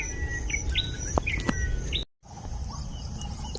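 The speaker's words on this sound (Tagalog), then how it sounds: "May mga ibon din pala dito, no, na humuhuni ngayon." Birds chirp and tweet in the trees around a planted tree plot in rural Masbate, Philippines, giving scattered high calls at moderate distance over a faint outdoor hum, with a brief drop in sound near the middle.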